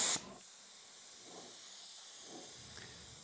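Spray gun laying automotive base coat at low air pressure, a faint steady hiss after a short louder burst at the start, quiet and continuous.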